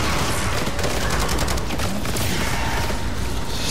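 An M240 machine gun fires in Call of Duty MWZ as a loud, continuous rapid burst of shots that carries through the whole stretch, close and dense, with no talking over it.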